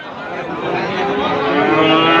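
A single Sahiwal bull calf moos, a long low bellow that rises slightly in strength, heard close up without talk.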